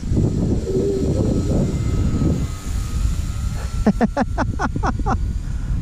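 A Timber X model airplane makes a slow pass, its propeller engine droning steadily and fairly close, with a burst of short rhythmic chirps near the end.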